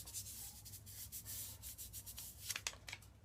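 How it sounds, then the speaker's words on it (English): Kinesiology tape being rubbed onto a knee to warm the heat-activated glue: quiet, brisk back-and-forth friction strokes on the tape, close up and faint, with no talking. "Take the backing we ripped off and give the tape a rub."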